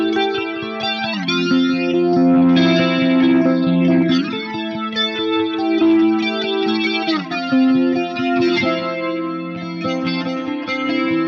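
Guitar through an EHX Electric Mistress pedal with chorus and flanger both set midway, held chords swelling with a sweeping, jet-like modulation, steady and loud over about eleven seconds with no voices.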